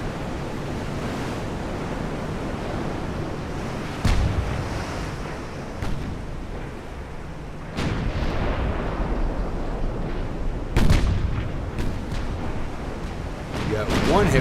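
Naval 12-inch guns fire and shells strike in Ultimate Admiral: Dreadnoughts, heard as a few dull booms spaced seconds apart over a constant roar of ocean and wind ambience.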